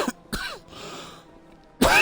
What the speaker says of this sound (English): keep coughing so much.